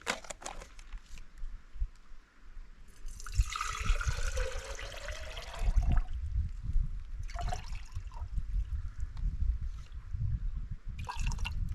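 Water is poured into a Grail bottle cup before boiling at a camp, giving a trickling, splashing pour that starts and stops a few times, close and fairly quiet.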